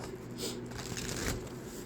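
Cards are shuffled in quick riffling bursts, quiet and close, with no talking.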